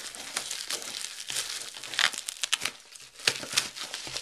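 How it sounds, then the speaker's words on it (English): Packaging for a DaYan Megaminx speed cube being cut and torn open, a dense run of crinkling plastic and paper with sharp tearing bursts, close and moderately loud, with no talking. "let's just get into this package. Wow, need to cut more."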